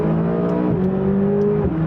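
A McLaren 570S engine revs up through a gearchange into fourth, a steady close-up drone with rising tonal harmonics and a brief dip at the shift, loud and alone.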